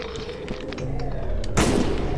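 A single sharp gunshot goes off near the end of a short stretch of quiet ambience in the video game The Last Case of Benedict Fox. The shot is loud and close.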